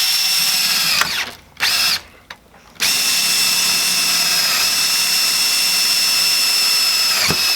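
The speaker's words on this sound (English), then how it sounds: "So we're just going to drill." Power drill boring through the wall of a tube, a loud steady high whine that cuts out briefly twice near the start, then runs continuously to the end.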